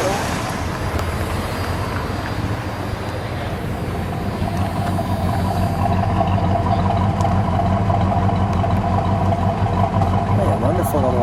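A 1984 Mercury Capri ASC McLaren convertible idles with a steady, low, even engine rumble throughout, loud and close, with no revving.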